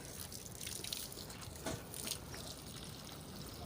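Water poured over a potted bonsai, a beringin (ficus) tree, during watering: a continuous soft splashing trickle with a few brief drips, fairly close and steady, with no talk.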